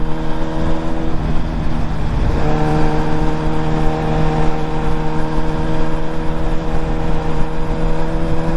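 A 1990s race-bred motorcycle engine, about twenty years old, runs steadily and loud nearby with a strong harmonic drone that shifts pitch once, as if revving up, then holds an even idle-like hum throughout.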